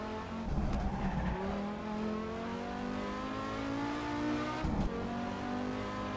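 An Audi Sport Quattro S1 engine in a Pikes Peak racing simulator game drones steadily under engine braking, its tone shifting slightly as revs fall and rise, with brief louder bursts near the start and end.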